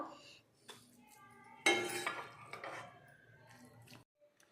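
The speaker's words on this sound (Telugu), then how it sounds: "నేను దీన్ని డిష్ అవుట్ చేస్తున్నాను." A metal spoon scrapes and clinks against a pan while dry spinach fry is dished out, giving sporadic close scraping and clattering strokes with quiet gaps in between.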